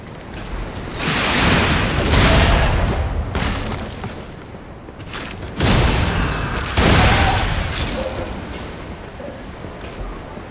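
Enemy cannon blasts in the video game Lies of P, two loud booming bursts with rumbling decay, each followed by noisy crackling debris and impact sounds.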